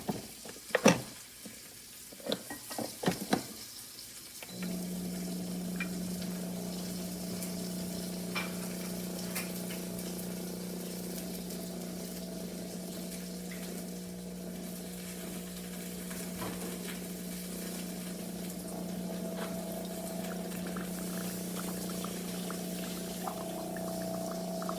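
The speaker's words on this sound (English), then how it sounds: "I'm making a cup of coffee with the Mixpresso" A Mixpresso single-serve coffee brewer, less than a year old and noisier than it used to be, makes a cup of coffee. A few clicks come first, then a steady, droning pump hum runs on without a break, with no voices.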